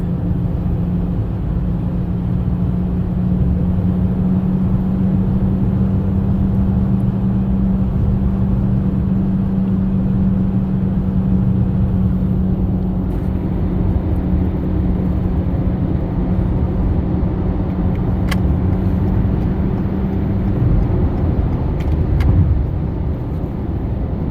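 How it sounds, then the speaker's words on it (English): A worn wheel bearing on a 2021 Toyota Corolla Hatchback hums steadily from inside the moving car, a constant low drone under road noise that fades near the end as the car steers right, with no talk. "so it's fairly certain that's a wheel bearing"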